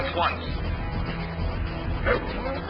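Attack dog barking in Command and Conquer Red Alert, two sharp close barks with a brief whimpering yip between them, set against low game rumble.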